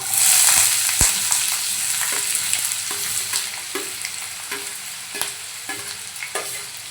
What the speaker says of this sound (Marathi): तेल पहा छान गरम झालंय, त्यामध्ये आपण बारीक चिरून घेतलेला कांदा घालून घेऊया